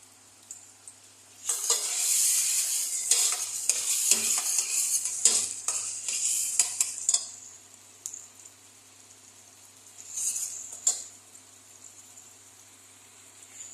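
Black beans cooking in a pot, with a burst of close sizzling and bubbling plus utensil clinks early on, then quieter simmering with a brief return of sizzle later.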